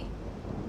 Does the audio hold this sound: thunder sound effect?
yes